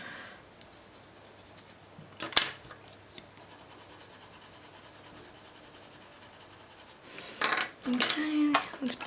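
A colored pencil lightly scratches across paper in soft, close strokes, faint at first, with a few sharper scrapes and then a louder burst of rubbing near the end.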